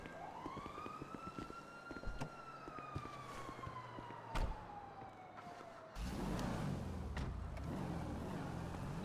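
Police car siren in the GTA video game, a single long wail rising and then slowly falling, fairly close and loud, followed by a steady rumble of the engine as the car accelerates.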